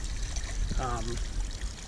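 Water trickles and pours steadily from an above-ground pool filter housing as the flow slows, a continuous wet splashing with a brief voiced sound partway through.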